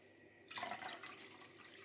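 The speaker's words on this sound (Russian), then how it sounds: "Теперь добавляем сюда воду." Water is poured into pie batter of eggs, milk and sour cream in a pot, a short, faint splash and trickle starting abruptly and running for about a second and a half.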